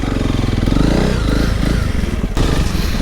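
Honda CRF300 Rally motorcycle ridden in second gear on a byway, its engine droning loudly and steadily with a pulsing low rumble and a brief dip and surge near the end, no talk over it.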